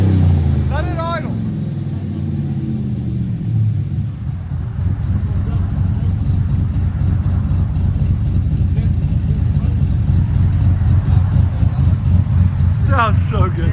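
Cammed Chevy/GMC 5.3L V8 with headers and muffler idles with a loping, choppy rhythm, loud and close, running steadily through the clip after a brief voice at the start.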